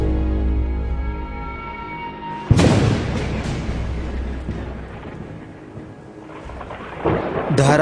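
A thunderstorm with torrential rain, where a sudden loud thunderclap cracks and rumbles over a steady downpour, with another burst near the end, used as a dramatic sound effect with no talking.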